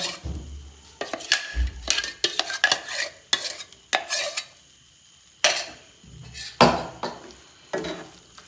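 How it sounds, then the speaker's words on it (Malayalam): A spoon stirs beetroot and dates pickle in a pan, with close, loud scraping and clattering strokes in uneven bursts separated by brief pauses. "നന്നായി നമുക്ക് ഇളക്കാം"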